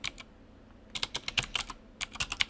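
Typing code on a computer keyboard, close and crisp: a short burst of keystrokes, a pause of about half a second, then two more quick runs of distinct clicks.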